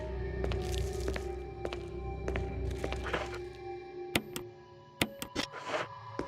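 A character walking in the Resident Evil HD video game, Jill scenario, with regular soft footsteps thudding at a steady pace over a background hum, then a few sharper clicking taps near the end, without talk.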